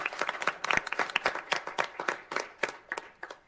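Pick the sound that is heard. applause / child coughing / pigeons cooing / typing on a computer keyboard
applause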